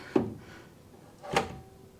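A ChickenGuard automatic chicken coop door drops down with two separate knocks about a second apart, each a short wooden thud followed by a brief ring, close and fairly quiet.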